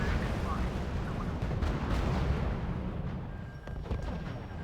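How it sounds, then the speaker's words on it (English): Units open fire in the R.U.S.E. strategy game: a rolling run of booming artillery and gunfire bursts, dense and continuous, with a voice talking over the barrage. "Unit opening fire on the enemy"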